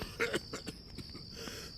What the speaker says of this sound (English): before this man stops coughing